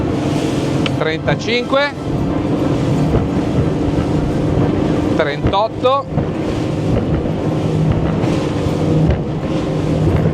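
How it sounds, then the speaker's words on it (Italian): A Halma HR25 RIB motorboat runs at full throttle on choppy sea, its engine a loud, steady roar mixed with wind buffeting the microphone and slapping water, while a man calls out speed figures over it. "poi poter dare tutto gas e vedere come si comporta questa imbarcazione alla massima velocità"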